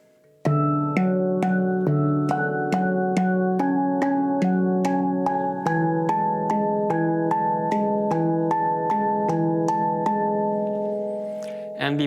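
A handpan in D Aegean tuning plays a slow waltz, struck notes ringing out in an even three-beat rhythm with sustained shimmering tones overlapping, close and clear, fading at the end.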